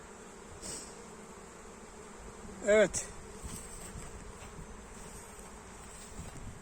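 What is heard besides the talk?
honey bees buzzing around crowded hive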